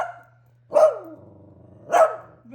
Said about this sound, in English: That's just my lovely little dogs playing and having a good time.